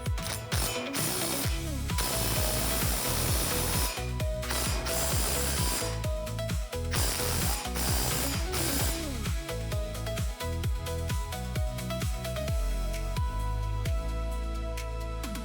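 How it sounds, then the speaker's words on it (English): A ratchet tightens hardware on a Lifetime 54-inch basketball hoop system, rapid clicking bursts repeating in quick strokes with brief pauses between, close and loud, no speech. "Now tighten the hardware."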